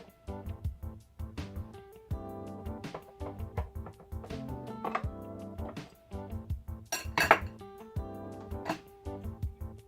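A freshly baked, still-warm butter buttermilk cake being worked out of its pan: scattered metallic clinks, taps and knocks of the pan and utensils, close by, with one brighter rattling burst partway through.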